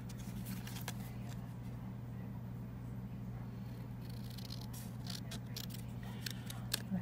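Scissors snip through a paper word tile being trimmed for an altered paperclip craft, a few quiet cuts near the end over a steady low hum.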